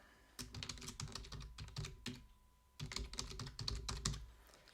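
Typing on a computer keyboard while filling in form fields, heard as two close bursts of quick keystrokes separated by a short pause.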